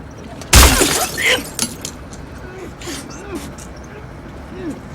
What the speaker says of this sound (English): he just grabs his bottle and just smashes right in the face